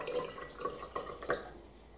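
Water trickles and splashes into a glass for a tabletop DNA extraction experiment, a faint, close pour with a few small sloshing pulses across two seconds.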